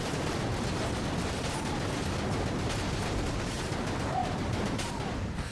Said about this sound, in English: It's just a series of explosions.